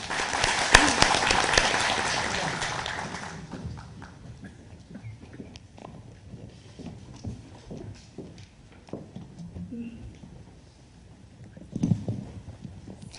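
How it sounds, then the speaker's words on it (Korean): Audience applause in a lecture hall welcomes a professor to a Korean forum on nuclear phase-out, loud at first and then fading into scattered claps and room noise. "박수로 맞이해 주시기 바랍니다"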